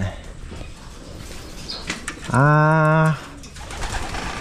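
A pigeon coos once, a loud close warbling call, with faint background talk and light rustling before and after.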